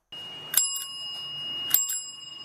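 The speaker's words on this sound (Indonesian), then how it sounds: "bunyi bel sepeda" Bicycle bell rung twice, each bright metallic ring followed by a lingering tone that fades slowly, close and clear with no other sound.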